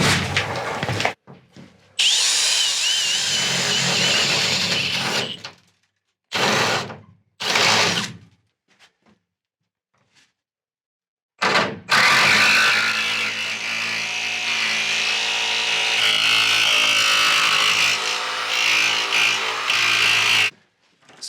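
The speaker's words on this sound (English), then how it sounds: "a big burly jigsaw like this might struggle a little bit" A big jigsaw cutting a car door trim panel, loud and close, running in long buzzing bursts broken by short starts and stops and a quiet gap before a longer steady cut.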